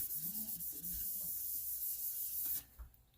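Cloth or paper rubbing and wiping alcohol ink off a painted surface, a close continuous scrubbing hiss that stops abruptly near the end, with no talking.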